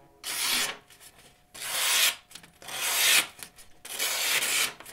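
A blade of a SOG MacV knife is drawn through its built-in sharpener. Four rhythmic, gritty grinding strokes come in close succession, crisp and near, with no voices.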